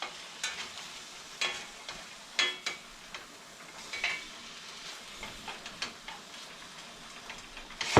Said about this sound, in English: We're going to let the grease from the bacon fry the veggies.